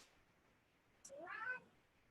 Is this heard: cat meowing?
yes